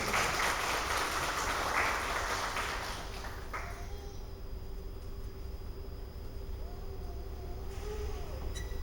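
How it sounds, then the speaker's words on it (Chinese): An audience applauds to welcome a performer at a school gathering. The dense, broad clapping lasts about three seconds, then fades to a quiet room hum. "我们就掌声欢迎他来演奏"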